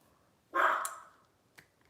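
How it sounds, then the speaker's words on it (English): A dog gives a single sharp bark in a quiet home, ringing out briefly and fading, followed by a faint click a moment later. "My dogs are freaking out right now"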